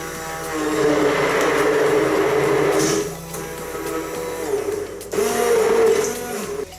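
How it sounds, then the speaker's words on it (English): A kitchen blender whirs steadily, mixing avocado, banana, berries and full-fat milk into a milkshake, the motor loud and continuous with a brief dip in pitch partway through before surging again. "we're gonna start mixing everything up to make our milkshake"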